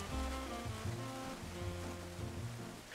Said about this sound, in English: off to the side, a waterfall